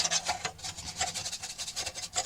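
A soft makeup-style brush sweeps dust off the parts of a Hohner Carmen 24 bass accordion, making close, rhythmic rubbing strokes in a quick repeated pattern with no talking.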